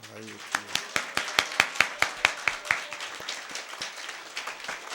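A church congregation clapping in unison, about a dozen sharp, evenly spaced claps that fade out into a quiet room after a brief spoken word.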